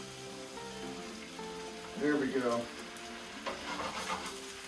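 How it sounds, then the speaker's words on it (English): Food poured into a hot pan with lemon juice on a home stove, bursting into a soft sizzle that swells briefly and then settles, heard faintly under a short spoken remark. "we should hear some sizzle."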